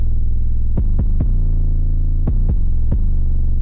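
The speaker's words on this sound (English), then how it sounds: "I just want to hear the 808" Deep, booming 808 bass drum hits with long sustained low tails, six in two clusters of three, loud and alone.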